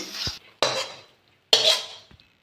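Cooked coconut mixture with cardamom for a coconut and palm pitha, stirred in a pan with three bursts of scraping and clinking, each trailing off, close and fairly loud with pauses between.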